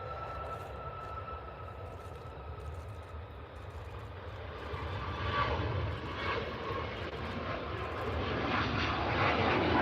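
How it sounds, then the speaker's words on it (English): A Hainan Airlines jet taxiing toward the runway at Manchester Airport: a steady, distant engine roar and whine that swells gradually louder over the clip, with no talking. "Hainan's still making its way up to the runway."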